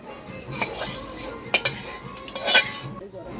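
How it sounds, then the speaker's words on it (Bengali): Moong dal dry-frying in a hot kadai while a metal spatula scrapes and clinks against the pan in quick, uneven strokes, close and fairly loud, with no talking. "এবার মুগ ডালটা আমি কড়াইতে দিলাম কড়াই গরম হয়ে গেছে একটু ভেজে নেবো"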